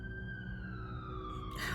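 An ambulance siren passes outside, a faint, steady wailing tone that slowly slides downward in pitch behind a low indoor hum.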